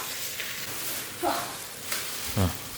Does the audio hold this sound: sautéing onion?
yes